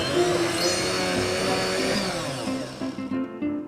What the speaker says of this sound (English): Put 4 pieces of orange into the blender.